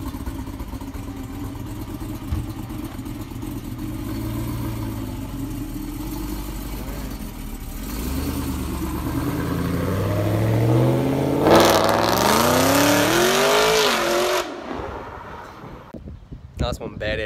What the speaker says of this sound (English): I hope you guys enjoyed that 700 horsepower Pontiac G8.